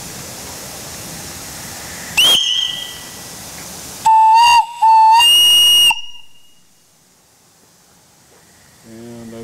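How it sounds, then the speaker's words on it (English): An antique steam whistle on a scale model steam donkey with boiler blows in a few sharp shrill bursts, one long and then two short toots, over a steady hiss of steam. "I've got a steam whistle on it"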